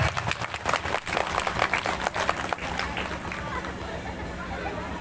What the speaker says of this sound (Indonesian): Yuk, beri tepuk tangan untuk remaja Masjid Al-Azhar.